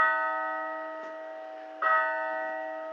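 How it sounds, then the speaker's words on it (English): A building in The Simpsons: Tapped Out gives off a ringing church-bell chime, a sustained tonal peal that fades slowly and is struck again partway through, clean and alone. "So church bells are the building sound."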